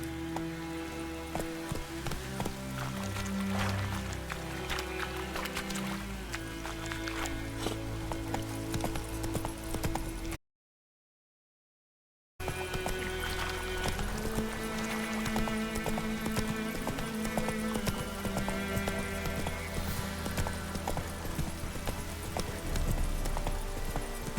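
Roach, a horse in the video game The Witcher 3, gallops with a steady rhythmic clip-clop of hooves under game music, with a brief silent gap partway through.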